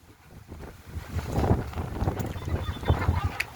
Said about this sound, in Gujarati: પવન બહુ સુસવાટા મારી રહ્યો છે